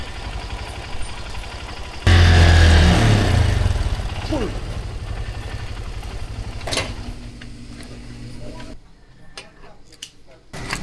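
A motorcycle engine starts up loudly nearby and settles into a rumbling idle, with ticking and passing traffic noise around it.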